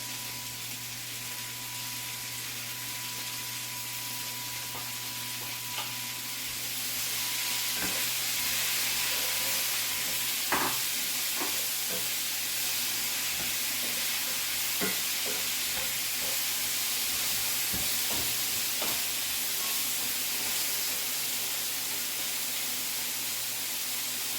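Onion and cilantro mix frying in a hot pan, a steady close sizzle that swells louder partway through, with scattered scrapes and knocks of stirring over a low constant hum.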